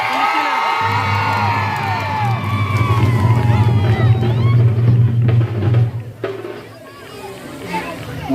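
A lively crowd of film fans whoops and cheers at a welcome for actor Raghava Lawrence, over a steady low hum, with shouting voices rising and falling before quieting down.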